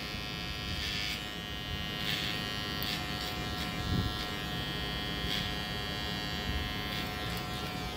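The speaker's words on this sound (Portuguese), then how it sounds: "Preparar minha maquininha de pezinho." Electric hair trimmer buzzing steadily and close while cutting a straight line along the side of very coarse, tightly curled hair, a constant drone with faint snips of cutting throughout.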